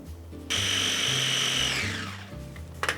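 A food processor pulsing cookie crumbs with butter for a cheesecake crumble topping, a loud whirring motor burst that winds up, holds, then spins down, followed by a few light clicks.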